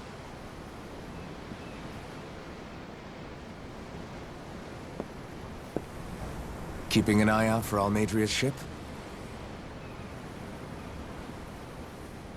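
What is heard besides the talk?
ocean waves in the video game Tales of Arise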